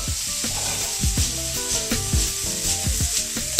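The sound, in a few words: shrimp sautéing in a hot pan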